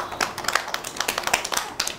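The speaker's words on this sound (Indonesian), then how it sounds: "Tepuk tangan kat bintang." Preschool children clapping for a classmate in class, heard as a brisk, uneven patter of many small hands close by for about two seconds, with no clear talking.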